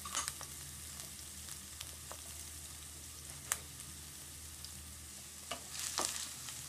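Onions and carrots for veg noodles fry quietly in a pan, a low steady sizzle broken by sharp spatula clicks and scrapes at irregular intervals, close and without voices.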